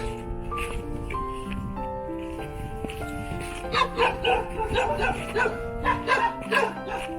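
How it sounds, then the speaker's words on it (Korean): A dog barks in repeated bursts outdoors on a rural property with farmland, a vinyl greenhouse, a factory and a house in a clean area below Songnisan, the barks standing out over a steady background. "개가 짖어서"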